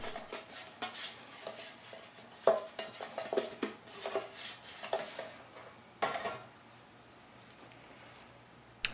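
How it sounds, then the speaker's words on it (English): Oil is spread around a metal bread pan in a home kitchen, with intermittent scraping, rubbing and clinking of a utensil against the pan, some sharper knocks, then quieter, fainter scrapes. "Let's oil up the bread pan. Spread it around."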